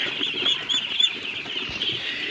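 Four-day-old domestic ducklings, a flock of hundreds, keep up a dense, continuous high-pitched peeping, with soft scuffling and faint flapping mixed in, fairly close and steady throughout.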